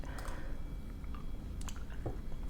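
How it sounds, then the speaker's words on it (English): Close, wet chewing of Trident Sweet Mint gum with soft squishes and smacks repeats steadily over a low background hum from a workplace. "It's a gum chewing video."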